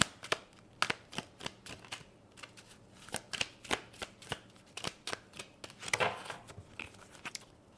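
A deck of cards being shuffled close up, a quick series of crisp riffling bursts and snaps at an uneven rhythm, with no talking.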